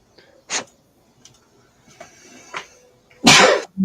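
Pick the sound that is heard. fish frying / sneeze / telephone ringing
sneeze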